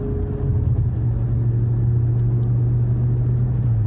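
A Volkswagen G60 GTI's engine idles steadily, a smooth, even low rumble heard from inside or close by, holding constant and fairly loud with no revving and no talk.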